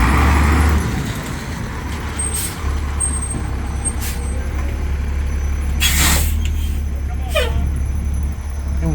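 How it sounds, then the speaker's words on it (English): A fire engine, Engine 205, rolls in with a load of water at a mobile home fire, a loud diesel rumble with sharp air-brake hisses and bursts of scene noise around it. "Here comes the other truck, bringing it back out of the way."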